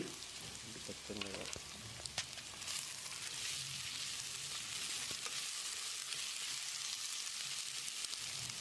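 Soya chunks and chopped green chilies hit a hot pan in a home kitchen, giving a dense, even sizzle of frying that holds steady throughout, with a few clatters and stirring sounds near the start.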